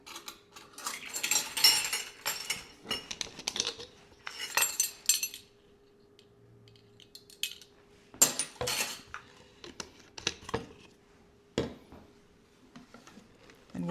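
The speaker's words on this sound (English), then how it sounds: "And we'll mix it up until it's very well combined" A spoon scraping and clinking against a mixing bowl as king cake ingredients with vanilla and almond extract are stirred together. It comes in irregular bursts with quiet gaps, and there is a faint steady hum underneath.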